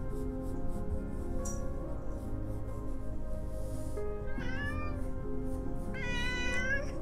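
A cat meows several times, rising and wavering calls at moderate distance over steady low background hum, with no talk.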